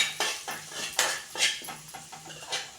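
Poppy seeds are stirred in a pan for coconut halwa, heard as a close run of rhythmic metal scrapes and light clinks, roughly one stroke every half second, with no talking.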